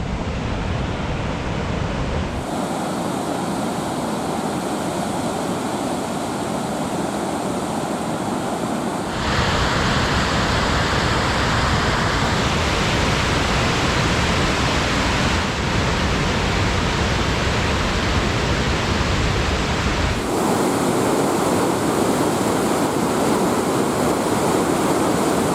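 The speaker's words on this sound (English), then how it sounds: "Sable Falls." Sable Falls on a river in Michigan's Upper Peninsula gives off a loud, dense, continuous roar of falling water, steady and close, shifting in tone across several takes.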